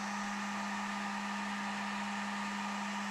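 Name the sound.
hot air blowing to heat and soften a 3D printed plastic letter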